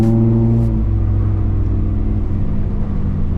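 A rare project car bought from a Copart auction, with heavy steering, revs hard as it accelerates, giving a loud, deep, steady engine drone with strong low rumble and no talk over it.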